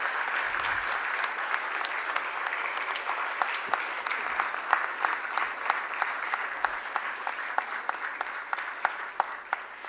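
Ceremony audience at a Deeksha Prarambh event in Pune applauds the honorable chief guest, with loud, rhythmic clapping that settles into a steady, almost synchronized beat lasting about ten seconds.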